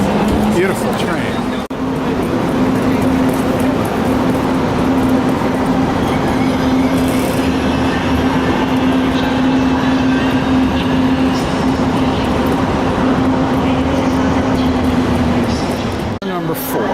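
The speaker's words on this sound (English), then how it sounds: "Beautiful train." A train sits at a station in Florence, giving a loud, steady rumble with a sustained low hum for over fifteen seconds. Platform noise and people talking in the background mix in.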